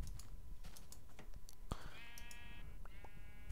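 Sheep in Minecraft bleat in two drawn-out, wavering calls that stand out against a quiet background of computer keyboard typing and mouse clicks during play.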